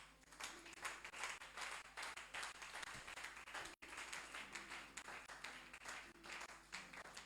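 Worship congregation at a Bible seminar clapping and applauding the Lord, a dense sustained wash of many hands with a brief dropout midway, no talking.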